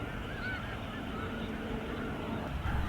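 A flock of snow geese honking on the Fraser and Skagit River deltas of the Salish Sea, a dense, continuous chorus of overlapping calls heard from a distance.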